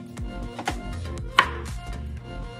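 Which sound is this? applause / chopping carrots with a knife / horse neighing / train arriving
chopping carrots with a knife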